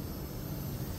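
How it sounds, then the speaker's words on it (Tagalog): A steady, low mechanical hum with broadband whirring noise from an air conditioner's outdoor compressor running continuously nearby, with no voices. "Rinig niyo yung tunog ng compressor."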